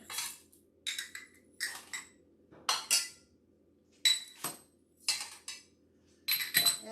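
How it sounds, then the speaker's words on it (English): Whole spices, including anise, tumble into a blender jar in a series of short rattling clinks, about eight separate pours, close and crisp with quiet gaps between. "you would put it into a spice blender. Just pour it all in."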